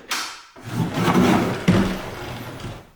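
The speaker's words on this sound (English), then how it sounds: "Pocket door for the toilet." A pocket door for a toilet in an abandoned lakefront mid-century modern mansion slides along its track with a rolling scrape, then a second bump partway through, fairly close and alone.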